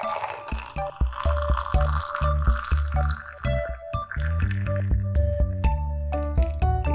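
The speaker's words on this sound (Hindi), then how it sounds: "इसमें हम ये खोला हुआ पानी डालेंगे" Boiled water pours into a cup for lemon tea, with a close trickle and splash whose tone rises as the vessel fills, broken by a few short pauses.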